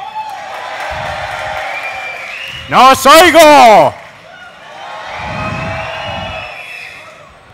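A crowd at a League of Legends grand final between x6tence and There We Go Bros in Tenerife cheers and applauds steadily as a loud, far-off roar, while a host shouts briefly over it.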